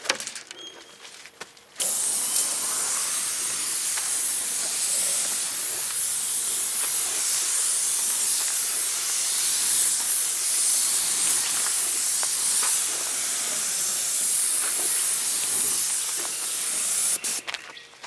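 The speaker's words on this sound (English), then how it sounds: "I'm gonna spray this" A spray gun laying down paint in a long continuous hiss, starting abruptly after a brief quieter moment and holding steady and close for about fifteen seconds before cutting off.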